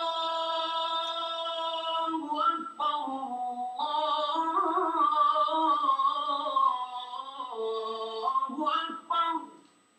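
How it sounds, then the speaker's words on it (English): A single voice chants the Islamic call to prayer in a long, melismatic line, phrases rising and falling with short breaths between them, clear and fairly close. "This is the Islamic call to prayer,"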